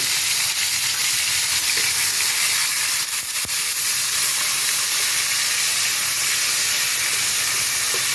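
Pieces of pointed gourd fry in hot oil, giving a loud, continuous hissing sizzle that holds steady throughout with a few faint clicks of stirring.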